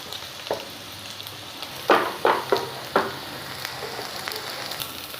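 Baby potatoes frying in a pan, with a low steady sizzle throughout and a few sharper crackling pops and stirring scrapes near the middle, close and fairly quiet.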